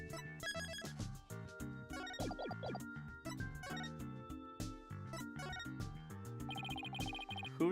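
Telephone ringing in the Ace Attorney: Spirit of Justice video game, heard amid busy, layered game music and chiming effects; a bright trilling ring emerges near the end, moderately loud with no speech.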